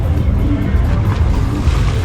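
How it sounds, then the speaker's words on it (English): Ocean waves washing against the shore near a cruise terminal in Cozumel, Mexico, a steady loud rushing roar with a low rumble throughout, no voices. "I saw waves crashing up here."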